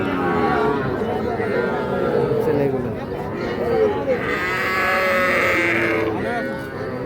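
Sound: cattle at a livestock market

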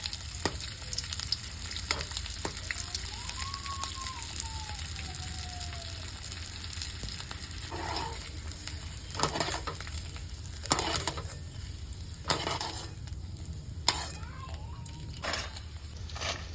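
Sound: edible gum frying in groundnut oil on gas stove

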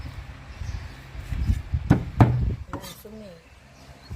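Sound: chopping duck meat

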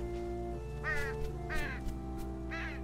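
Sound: bird cawing in the video game Unravel

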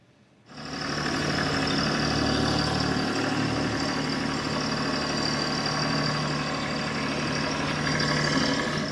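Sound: TYM T264 tractor engine idling

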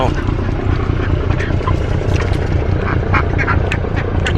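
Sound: ducks quacking near a chicken coop

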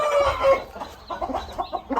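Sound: fighting rooster crowing and clucking

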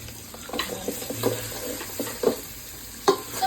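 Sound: sautéing chicken curry ingredients in a pan

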